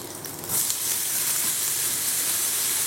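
Sliced onions tipped into a hot pan of olive oil and meat juices, a sudden loud hissing sizzle that bursts up and then holds steady, close by.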